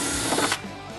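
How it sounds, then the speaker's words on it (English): A drill bores a pilot hole into the bottom of a golf cart cup holder panel, a brief close whir that cuts off after about half a second, leaving a quieter hum. "Now we're going to drill a pilot hole and the bottom of our cup holder panel."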